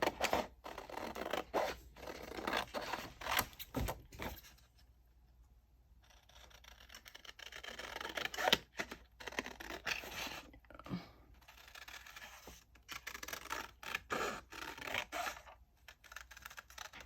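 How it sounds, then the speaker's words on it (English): Scissors cutting pockets out of denim for a journal project: close, quiet snipping and scraping strokes in irregular clusters, with a pause of near silence partway through. "I'm going to cut these pockets out."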